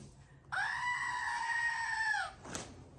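A pet goat lets out one long, loud, harmonically rich scream of about two seconds, close by and alone, followed by a short faint rustle.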